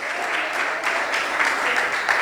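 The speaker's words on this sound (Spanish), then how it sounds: "Dale un aplauso al Señor." A church congregation bursts into sustained applause during a Spanish-language sermon, a dense, steady wash of many hands clapping close by for a couple of seconds with no voices over it.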